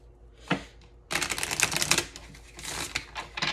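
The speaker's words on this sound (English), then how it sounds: "I'm going to pull a card on that." Crisp, rapid papery snaps and flicks of a tarot card being pulled from a deck, a short burst followed by a longer busy run of dry card clatter, close and fairly loud with no talking.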